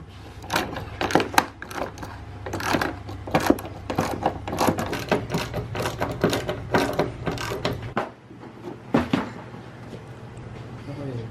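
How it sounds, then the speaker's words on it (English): A ratchet wrench unbolting the seat of a wrecked Ski-Doo MXZ 800 snowmobile, with rapid, close, loud clicking bursts repeated in quick runs, a brief pause, then more clicks over a low steady hum. "Now we're gonna go ahead and unbolt the seat, get the seat out of here"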